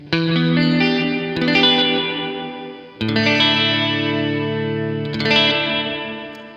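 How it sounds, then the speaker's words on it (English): Electric guitar played through an Artifakt Lo-Fi Elements pedal in µVerb reverb mode. Two loud strummed chords each swell and shimmer with a washy, chorus-like reverb tail before fading. "we are going to go knob by knob and show you what the µVerb does"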